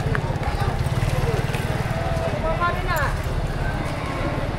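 A horse at a livestock market in Padre Garcia, nearby with steady clip-clopping hooves and a brief whinny, with people talking over it.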